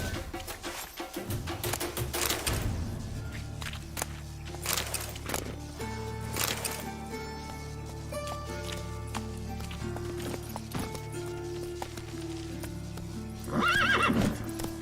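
Horse hooves drum steadily through the whole stretch in The Witcher 3, a ridden mount carrying its rider, with a loud neigh rising near the end over the game's background music.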